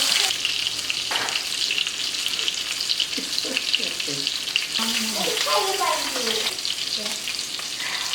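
Chicken sizzles and crackles steadily in a hot frying pan, a constant frying hiss with occasional scraping and a faint voice in the background.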